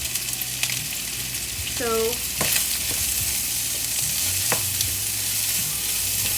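Onions frying in a pan, a close, steady sizzle broken by scraping stirs and a few utensil knocks, with a brief spoken word near the start.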